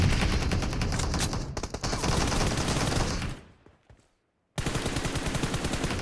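Sustained, loud automatic fire from AKM and M416 rifles in a video game, a dense rapid rattle that thins out and cuts to a short silence before the volley resumes just as hard.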